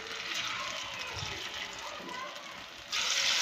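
Boondi batter mixture poured into hot oil for frying, a steady bright sizzling hiss throughout that swells louder near the end, with no talk over it.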